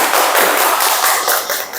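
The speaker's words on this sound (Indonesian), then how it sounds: "Oke, boleh tepuk tangan untuk Hasna." A classroom of students applauds a classmate, dense continuous clapping close by and fairly loud for nearly two seconds, with no talk over it.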